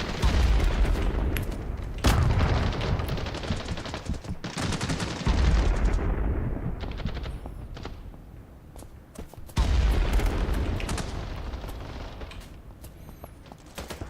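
Loud gunfire from a first-person shooter, several sharp sniper-style shots spaced a few seconds apart, each followed by echoing tails and softer mechanical clatter between them.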